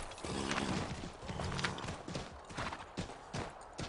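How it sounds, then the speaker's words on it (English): Horse hooves clip-clop steadily in Assassin's Creed III, a close, even walking rhythm of repeated hoof strikes with a brief whinny, with no voices over it. "I think I just stole a horse."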